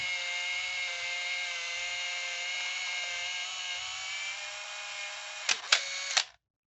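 A Canon T70 film camera's motor rewinding film, a steady high whining drone close up that runs for several seconds, then a few quick mechanical clicks before it stops abruptly into silence.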